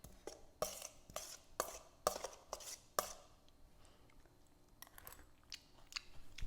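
Crisp, close crunches from someone chewing a bite of grilled skirt steak topped with chimichurri, arriving in a quick burst of sharp bites, then a pause and a few softer chews, with no talk.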